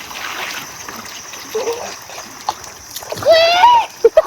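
Kids swimming in a narrow, fast-flowing river stretch in Satara send up scattered splashes over steady running water, with a voice calling out near the end.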